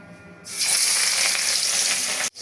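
Coral fish pieces hitting hot oil in a pan, a sudden loud burst of sizzling that holds steady and close for about two seconds before cutting off sharply.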